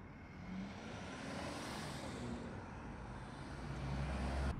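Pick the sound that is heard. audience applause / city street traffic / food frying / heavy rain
city street traffic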